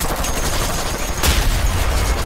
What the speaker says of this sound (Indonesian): Di sini mereka harus membersihkan bom-bom dengan cara ditembak agar meledak